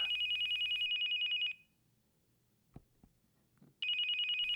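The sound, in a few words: telephone ringing on the nightstand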